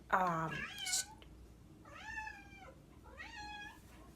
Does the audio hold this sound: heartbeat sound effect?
no